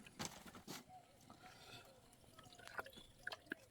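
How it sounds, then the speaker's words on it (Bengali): Water being drunk up close, with a few soft liquid sips and swallows and faint drips at a low level in a quiet room, with no talk. "পানি খাই।"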